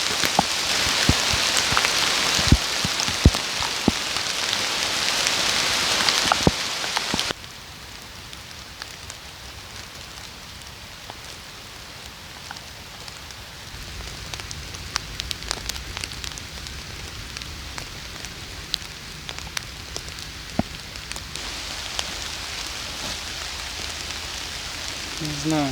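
Heavy rain falling in a forest, a steady broadband patter that is loud for the first seven seconds, then continues more softly with scattered drips while people talk.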